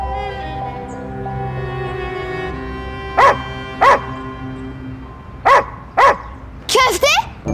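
A dog lets out sharp barks in two pairs, then a rapid final burst, all fairly close, over a steady background of voices and low hum.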